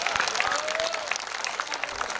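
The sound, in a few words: audience applause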